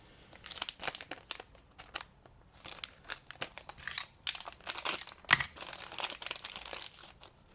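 A sharp razor blade slices through packaging with crinkly, tearing bursts and crisp plastic crunches coming in uneven close-up strokes, with short pauses between cuts.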